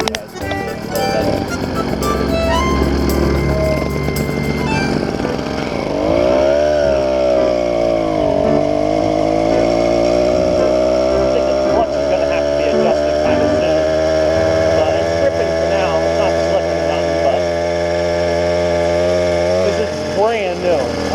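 Newly ported 80cc two-stroke motor runs loud and close, revving up and holding a high buzzing whine with wavering pitch, and a person speaks over it.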